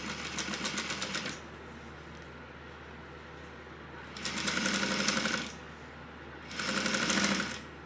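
A sewing machine top stitches the last card slot on a Lina crossbody bag in two bursts of steady, rapid whirring, with an earlier burst at the start and quiet gaps between.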